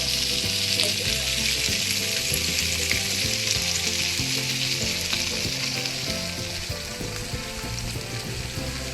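Marinated mackerel frying in a pan over a low flame, a continuous close, dense sizzle and crackle holding steady throughout, easing slightly toward the end, with no voices.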